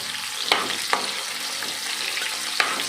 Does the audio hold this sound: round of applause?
no